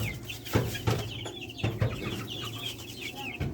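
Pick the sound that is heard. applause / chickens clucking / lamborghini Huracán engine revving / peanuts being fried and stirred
chickens clucking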